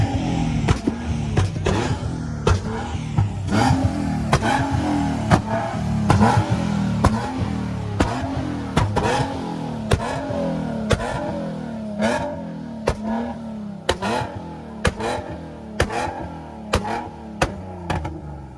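Muscle cars at a Hellcat meet rev their engines over and over, a near, loud series of sharp throttle blips and rising vroom pulls with crackling pops, repeated roughly every second across the stretch.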